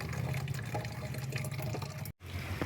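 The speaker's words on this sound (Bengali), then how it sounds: "দেখো এইভাবেই জল পড়ছে আর কি" Water trickles steadily from a household tap into a container, a continuous close splashing hiss with a brief dropout near the end and no talking.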